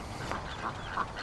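An old, limping duck quacks a few times outdoors, soft short quacks spaced about a third of a second apart over quiet background noise.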